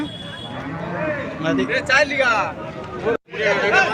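Cows and calves low and moo at a busy weekly cattle market in Palamaner, several long calls overlapping near and far under steady crowd chatter and voices.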